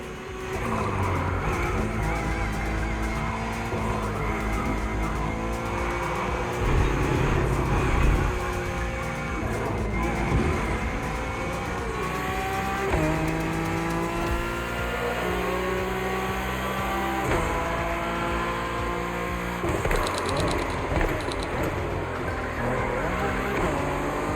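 Acura NSX GT3 race cars in The Crew Motorfest touring event, a steady loud engine drone with rising and falling gear-change tones, continuous throughout with no talk.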